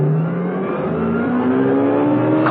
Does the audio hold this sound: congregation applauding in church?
no